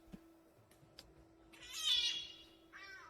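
A cat gives two meows, one drawn-out and fairly loud, then a shorter one, over faint background noise and a steady low hum.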